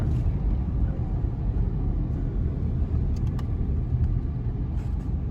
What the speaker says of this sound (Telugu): ఇది జహరా అంటారు చూడండి ట్రాఫిక్ ఎలా ఉందో ఇంకా సాయంకాలం అయ్యాక ఇంకా ట్రాఫిక్ ఎక్కువ అయిపోతుంది